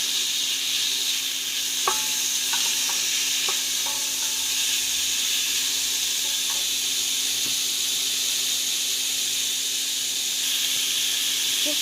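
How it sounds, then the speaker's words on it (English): Rib eye steak with onion and garlic sizzles steadily in a hot pan, a constant bright hiss with a few faint scrapes and clicks of stirring, close and without talk. "I'm gonna add up the red eye steak. Mix it all up together."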